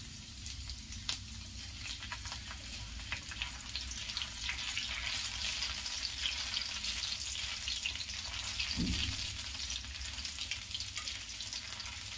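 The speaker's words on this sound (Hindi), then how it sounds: "तेल अच्छी तरह गर्म हो चुका है। अब इसमें मैं लहसुन डाल दूंगी।" Chopped garlic sizzling in hot oil in a pan, a steady and dense frying hiss that runs close and unbroken the whole time, with a brief clunk partway through.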